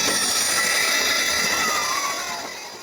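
A train rumbles loudly past on the rails at Borivali Station, India, wheels hissing and squealing, the roar gradually fading toward the end.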